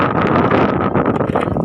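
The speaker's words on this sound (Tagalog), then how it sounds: "Ang hangin." Strong wind buffets the microphone on a Laguna lake during an outrigger boat trip, a loud, steady roaring rush that fills the whole stretch with no break.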